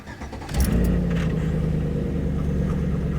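A lifted gas truck cranks briefly and fires up, its engine catching with a short rise before settling into a steady, low idle, close by and alone.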